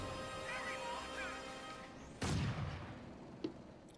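Mortar fire in Company of Heroes 2, one loud crashing impact that rings out and fades, then a smaller thump, over a steady hum of battle noise.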